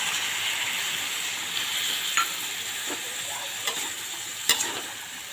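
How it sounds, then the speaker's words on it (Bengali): Fish in a pan sizzles and hisses with cumin, turmeric and chili powder after water is added, a constant frying crackle broken by occasional scrapes and taps of a spatula stirring, close up. "তো এটাকে আমি এক সুন্দর করে ভেজে নিই।"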